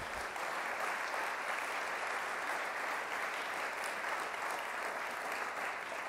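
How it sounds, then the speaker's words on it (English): Sustained audience applause fills a large event space at the opening celebration of a climate hub, amid an art installation of trees, a dense, steady wash of clapping hands holding even, fairly loud, for several seconds without a break. "Applause."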